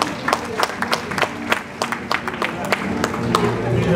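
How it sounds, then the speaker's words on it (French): Crowd applause at a university olympiad prize-giving ceremony, with sharp individual claps standing out over a steady wash of clapping and light cheering that swells toward the end. "Est-ce qu'on peut applaudir très fort, s'il vous plaît?"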